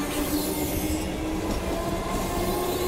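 An electric suburban Comeng train departs Armadale Station in Melbourne on a Frankston service. A steady rolling rumble with faint wheel squeal and a constant tonal motor whine carries from nearby, with no voices.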